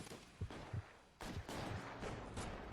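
Gunfire in the video game L.A. Noire: faint, repeated shots in quick, uneven succession, like a distant shootout with several guns firing over a couple of seconds.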